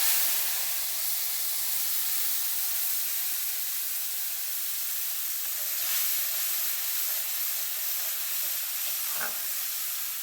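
Ground mustard paste goes into hot oil already tempered with dried red chillies for a pabda fish dish, giving a steady, bright, close sizzle and hiss that holds evenly throughout, with a faint clink near the end.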